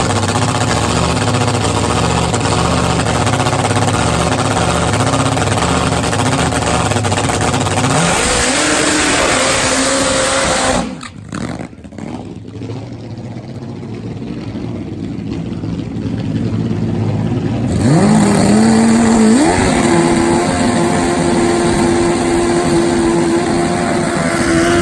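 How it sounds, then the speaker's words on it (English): Top Fuel drag racing motorcycles, including a turbo machine of over 1,000 horsepower, roar down the strip at a European drag race, loud engine howl rising in pitch, a brief drop, then another rising run. "Let's get you to some Top Fuel motorcycle action."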